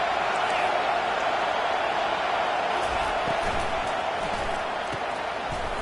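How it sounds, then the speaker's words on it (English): Dense, steady roar of a large stadium crowd at a football game, continuous and loud throughout, with scattered cheers and shouts rising within the wash of noise. "This crowd bringing the energy and noise early."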